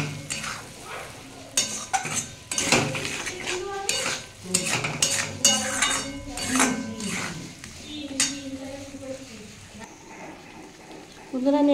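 A vegetable curry of potato and pointed gourd is stirred in a pan with a spatula, giving clattering scrapes and clinks over a low sizzle, with a voice speaking in places.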